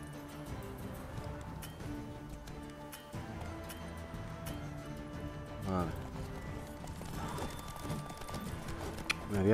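Horse hooves gallop in a steady, rapid rhythm in The Witcher 3 video game, mixed under continuous game music and battle ambience, with a brief louder swell near the end.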